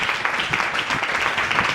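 A church congregation bursts into applause acclaiming the Lord, a dense, steady wash of many hands clapping at close-to-mid distance, loud and continuous without pause.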